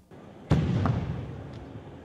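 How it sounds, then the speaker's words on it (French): Gunshots ring out in the PK5 district of Bangui, Central African Republic: one sharp, loud crack followed by a weaker second report, over a steady background hum. "Des coups de feu retentissent dans le quartier du PK5 à Bangui"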